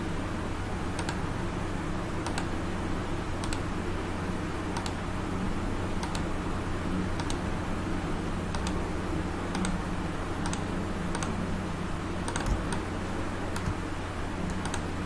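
A computer mouse clicking steadily while making selections in Photoshop, faint, evenly spaced single clicks over a low hum of room noise.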